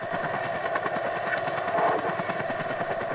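A helicopter in the survival game The Forest, heard as a steady, loud rotor chop with a fast rhythmic thud and engine whine, continuous and without speech.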